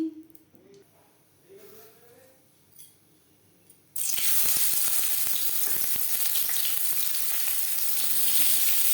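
Four spoonfuls of hot refined oil in a pan burst into a loud, crackling sizzle partway through, after a quiet opening with faint talk, and the frying continues steadily close by to the end.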